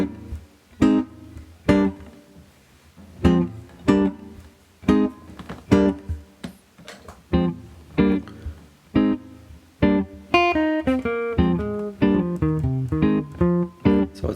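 Electric guitar vamping a quick blues figure over a looper, with plucked chords and single notes in a steady rhythm, then busier melodic lines layered on top toward the end, close and clear with no talking.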